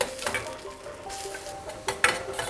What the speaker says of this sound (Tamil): இந்த எண்ணெயிலேயே இந்த இஞ்சி நல்லா வதக்கிடலாம்.